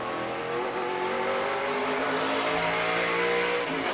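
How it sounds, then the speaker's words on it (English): SRX race cars racing at Stafford, a dense continuous engine roar with rising revving tones from several cars, steady and loud, with no voices. "Paul Tracy a little wide into the corner."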